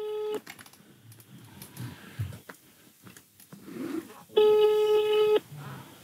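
A telephone call goes unanswered: a short ringback tone, then crackly background noise and faint voices, then a second long steady electronic tone, close and fairly loud.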